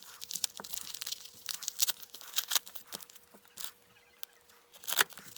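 Crisp tearing and crinkling of a mailed hockey card package being pulled open up close, in quick irregular rips and rustles with short pauses between.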